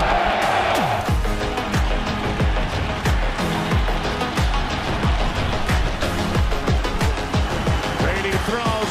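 Roaring crowd of 8,500 people at a Tampa Bay Buccaneers football game, loud continuous cheering under repeated booming thuds and swooping musical hits.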